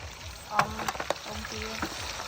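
Bacon frying in a pan on a cooker at the Silver Fork campground in California, a steady soft sizzle with a few scraping and clinking sounds on top, faint tonal hums beneath, and no talking.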